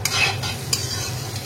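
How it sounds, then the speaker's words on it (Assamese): Bitter gourd sizzles as it fries in a pan. A utensil scrapes and stirs it in several quick strokes over the steady crackle, with no talking. "তিতাকেৰেলা ভাজিছোঁ"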